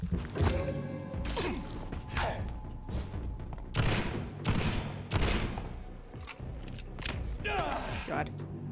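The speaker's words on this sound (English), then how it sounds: "Let me just shoot you again" Gunshots from the vampire video game Vampyr, several loud cracking shots scattered through the clip amid thuds and clattering, mixed with voices talking throughout.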